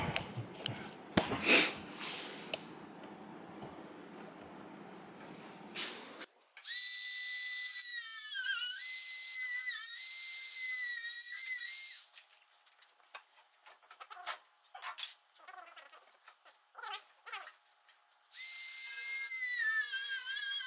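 A motorcycle fairing on a 1977 Kawasaki KZ1000A being cut with a power tool, giving a loud, high-pitched whining grind in several sustained bursts with short pauses, after a few seconds of low handling noise.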